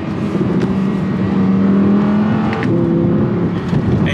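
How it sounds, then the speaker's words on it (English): Audi R8 with a 7-speed dual-clutch gearbox revving hard close by, a loud sustained engine drone rising in pitch with a brief break around a shift and faint crackles from the exhaust. "that's when you get some of the exhaust pops, and it definitely gets a bit louder and a bit more exciting"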